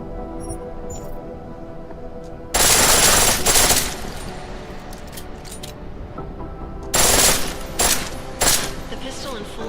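Pistol fire in full auto from Deus Ex: Mankind Divided, two loud rapid bursts against a steady game ambience, each burst lasting roughly a second or more.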